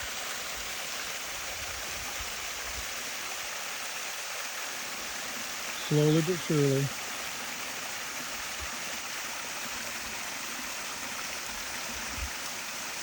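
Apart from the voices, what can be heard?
water flowing in to fill a garden stream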